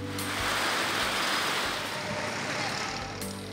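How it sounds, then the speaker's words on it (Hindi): A strong windstorm with heavy rain sweeps over Karachi, making a continuous loud broadband roar of wind and downpour that rises slightly midway and holds steady to the end. "तेज हवाओं के साथ बरसने वाले बादल की वजह से दोपहर में ही अंधेरा छा गया।"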